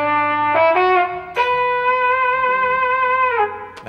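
Trumpet patch on a guitar synthesizer, a few short brassy notes followed by a long held tone, clear and fairly loud, with no one talking.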